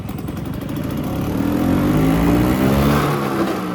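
A 25-year-old vintage LML NV Special two-stroke scooter engine during a U-turn, its close, steady buzzing note climbing slightly in pitch before easing off, with no talking.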